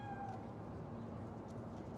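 A cat meows faintly in the Cyberpunk 2077 game world, one short call heard in the opening moment over a steady low ambient hum that persists throughout.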